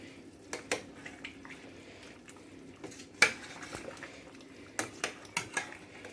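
A spoon stirs garam masala into a pot of mutton curry, with scattered metallic clinks and scrapes against the pot over a quiet simmer, close by.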